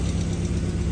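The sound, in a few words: 2008 Mazda idling, AC compressor cycling on and off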